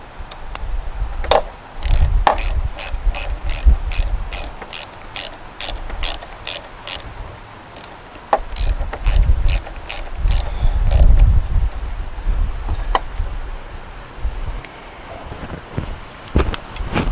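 A ratchet tightens the terminal nut on a Ford Escape battery in quick runs of close, crisp clicks, separated by short pauses and occasional clunks of the tool.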